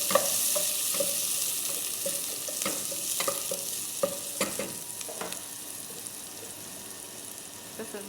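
Onion hits a hot pan and fries for koshari, Egyptian rice, a bright steady sizzle punctuated by repeated clinks and scrapes of stirring that fade toward the end.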